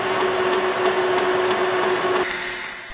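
A metal lathe runs for threadcutting with a steady, close mechanical whir and a constant tonal hum, which drops in pitch and winds down near the end.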